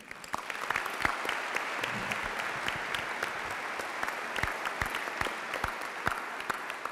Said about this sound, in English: why don't we give a special round of applause and appreciation to all the folks here at Hope College who set up the gym, prepared the food,